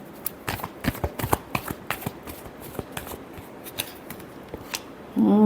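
Tarot cards are shuffled by hand at close range, a rapid series of light riffling taps and flicks for several seconds, ending in a brief louder rustle.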